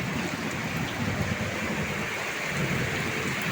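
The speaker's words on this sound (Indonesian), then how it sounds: "Mau hujan ini hujannya lebat sekali teman-teman ya." Heavy rain pours steadily and loudly close by, a dense continuous roar with a low rumble that may be distant thunder.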